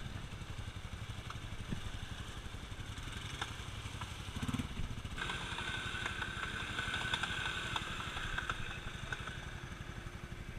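A three-wheeler ATV engine runs continuously on an off-road ride, a steady mid-pitched motor drone heard from a distance with a faint clatter.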